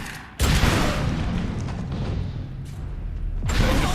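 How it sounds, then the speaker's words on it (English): Grenade explosion in the video game Defiance 2050, a sudden loud boom followed by a rumbling roar that decays, with a second blast near the end. "Did he just throw a grenade at me?"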